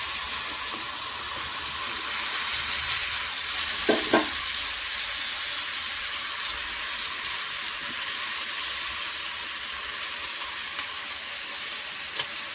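Tomatoes going into a hot frying pan for a fish curry give off a steady, close sizzle and hiss throughout, with a couple of brief stirring knocks near the middle.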